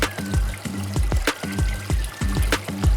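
A dishwasher drains its wash water, giving rhythmic gurgling pulses and sloshing that repeat roughly every half second, fairly loud and close, with a faint steady whine underneath.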